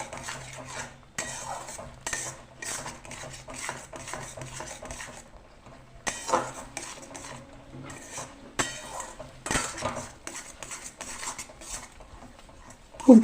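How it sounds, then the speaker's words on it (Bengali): Spoon or spatula scraping and clinking through semolina (suji) with a little sugar and salt in a pan, close and steady, irregular bursts of stirring for the whole stretch with no talk. "খুব ভালো করে নাড়তে হবে সুজিটাকে।"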